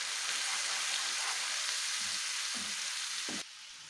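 A mixture fries in butter and oil in a pan with a dense, close, steady sizzle, broken by a few soft knocks of stirring before the hiss settles slightly quieter.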